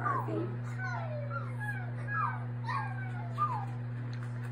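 A person imitates a sad dog, giving a series of high, falling whimpers and whines, about six in a row over a steady low hum.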